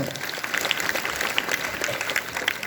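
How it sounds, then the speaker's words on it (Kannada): Audience applause at a religious discourse during a festival program, a steady crowd clapping of moderate loudness that continues through the whole stretch. "ಅವನೊಂದು ಜೋರಾದ ಚಪ್ಪಾಳೆ"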